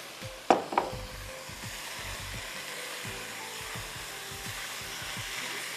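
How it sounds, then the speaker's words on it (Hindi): Chicken frying in cooking oil with ginger, garlic, onion, whole garam masala and yogurt, a soft steady sizzle with a couple of sharp knocks at the start and faint scraping stirs, no talking. "अच्छी तरह चिकन को इस तरह फ्राई कर दीजिएगा शाताज कुकिंग ऑयल में"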